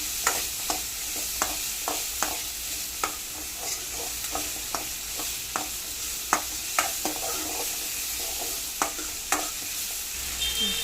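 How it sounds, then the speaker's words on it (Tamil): Sundakkai vathal, dried turkey berries, frying in a pan while a spoon stirs them, giving a steady soft sizzle broken by sharp scraping clicks every second or so, close by with no talking. "ஆட் பண்ணி நல்லா வதக்கி விட்டுக்கணும்."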